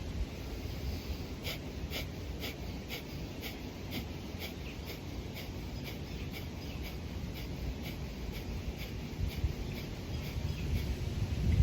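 Rapid, forceful yoga breathing through the nose, skull shining breath, a steady run of quick sharp exhalations at an even rhythm lasting throughout, close and fairly quiet with no talking.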